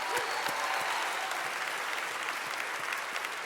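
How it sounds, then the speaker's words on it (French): Steady audience applause fills a gala hall, a dense continuous wash of many hands clapping at even loudness throughout with no voices on top. "J'ai envie qu'on vous offre à vous une bonne main d'applaudissements."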